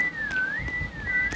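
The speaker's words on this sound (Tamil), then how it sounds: "விசில் பண்ணுங்கடா." A steady whistled tone rises and falls gently in pitch in the Roblox game Meccha Chameleon, moderately loud and alone, with faint thuds underneath.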